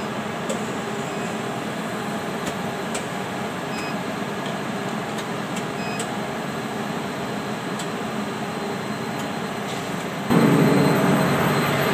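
Main motor of a U-PVC pipe extrusion machine running in a factory, a steady loud industrial hum and whir with faint clicks, growing noticeably louder near the end as the screws begin turning.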